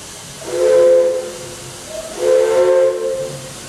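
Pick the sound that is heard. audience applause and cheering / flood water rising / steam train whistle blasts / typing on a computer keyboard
steam train whistle blasts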